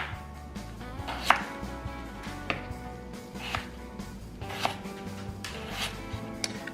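A knife chops a washed, unpeeled potato into wedges on a cutting board, with sharp, irregular cuts landing close and clear over low kitchen background hum.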